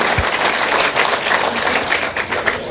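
Steady applause from a crowd at an agricultural exhibition in Kalas, Akole, honouring Chhatrapati Yuva Pratishthan, a dense continuous clapping that stays loud throughout.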